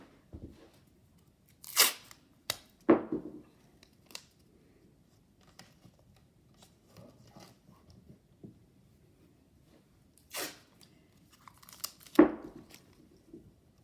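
Short bursts of tape being pulled and torn, a few separate rips with quiet pauses between, while a clay piece is taped to a wall.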